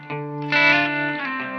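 Electric guitar through a Walrus Audio Fundamental Tremolo pedal set to a slow, gentle rate, sustained chord tones swelling with a soft wavering pulse, close and moderately loud with no voices.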